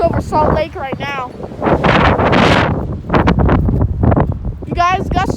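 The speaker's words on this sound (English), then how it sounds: "You guys, gusts are picking up over here." Strong storm wind gusts buffet the microphone in loud, rumbling surges and whooshes while people talk excitedly close by.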